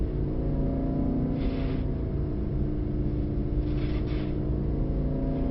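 Mercedes-AMG GT63 Pro engine under throttle on a track, a steady droning hum heard from inside the car, loud and even for several seconds with brief whooshing swells of wind or exhaust; no talking.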